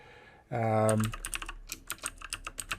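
Computer keyboard typing, a burst of rapid, uneven key clicks close by, preceded by a brief low hum.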